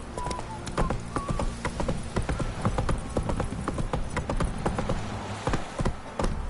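A horse's hooves clip-clop steadily in The Witcher 3: Wild Hunt, a fast, even trot heard close and moderately loud. Faint game ambience lies underneath and a short neigh-like tone comes in early on.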